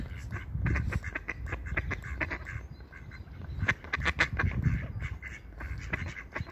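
Several ducks in a spa park quack loudly and close by in irregular bursts, overlapping one another throughout with no voices.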